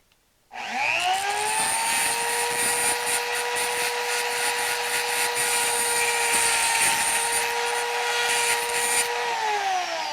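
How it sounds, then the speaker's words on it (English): An angle grinder grinds the edges of a metal heating element base round, a loud steady high-pitched whine held continuously up close after a brief start. "I'm just going to grind it till it's just about round"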